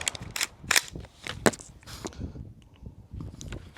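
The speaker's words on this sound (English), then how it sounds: "Rifle skills, let's just take some single shots, get it going." A rifle fires several sharp, loud single shots at an outdoor range, irregularly spaced over a few seconds, each with a short echoing tail.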